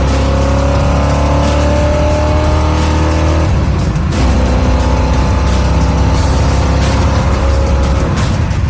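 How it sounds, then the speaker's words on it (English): A 1971 Pontiac T-37 with a five-speed and dual exhaust pipes drives hard, its loud engine droning steadily from close by, dipping briefly at a gear change before pulling on again. "because it's a 5-speed, because it's got dual pipes on it, it sounds amazing"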